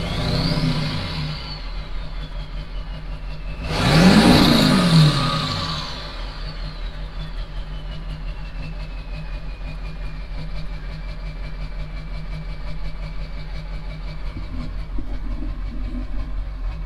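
A Ford 7.3 diesel engine idles with an uneven, loping rhythm as a steady low rumble, while a vehicle whooshes past loudly around the middle and a faint descending whine trails off.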